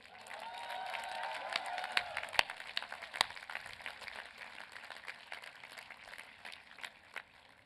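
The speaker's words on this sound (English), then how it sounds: "An applause for all the graduates." Audience applause for graduates at a Penn Engineering master's commencement in 2014: sustained, dense clapping from a large crowd that peaks early and gradually thins, with a few sharp individual claps standing out.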